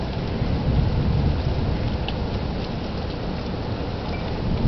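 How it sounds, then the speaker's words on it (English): Steady, dense rain roars close by with a deep rumbling undertone of thunder from a storm to the south, unbroken throughout and without voices. "the storm is probably just down to the south of me"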